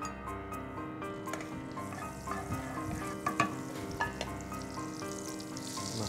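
Mushrooms and dried red chillies fry in butter and oil, giving a steady bubbling sizzle with a few louder crackles and spatula scrapes near the middle.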